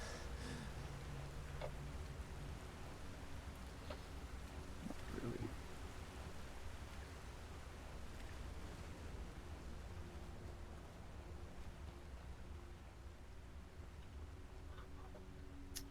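A steady waterfall in Skyrim rushes as a constant broadband hiss, moderately quiet, with faint ticks and a brief spoken remark.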